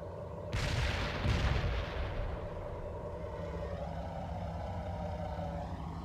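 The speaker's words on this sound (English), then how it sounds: "Fire some grenades at the enemy." Explosive grenade blasts and gunfire in a World in Conflict battle, a loud broadband burst near the start followed by a second blast, then sustained rumbling combat noise with a steady engine-like drone continuing throughout.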